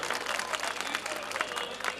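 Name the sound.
crowd clapping at rally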